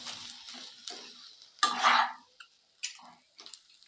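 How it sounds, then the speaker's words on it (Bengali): A thick banana flower filling mixed with coriander leaves and garam masala is worked in a pan, producing short, separate scraping and tapping bursts of a spatula over near silence, one longer scrape in the middle. "এরপর আমি এই সবগুলোকে একসাথে ভালো করে নেড়ে চেড়ে নেব"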